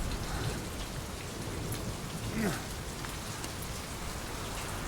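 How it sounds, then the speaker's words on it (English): Steady rain falling in the Metal Gear Solid V video game, a constant dense hiss of drops on surfaces, loud and continuous, with no talk over it. "Is it raining? I feel rain."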